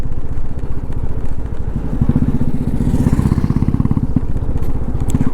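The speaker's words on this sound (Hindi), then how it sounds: "क्या भाग रही बुलेट।" A Royal Enfield Bullet Standard motorcycle rides along a road, its single-cylinder engine thumping in a fast, steady, loud beat close by, with wind rush over it and no clear talking.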